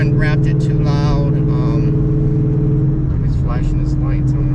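A Ford Mustang fitted with a Steeda Tri-Ax shifter drones steadily while driving, a close, sustained engine hum with light revving and someone talking over it.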